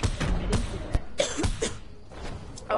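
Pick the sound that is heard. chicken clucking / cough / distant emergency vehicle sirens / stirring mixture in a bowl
cough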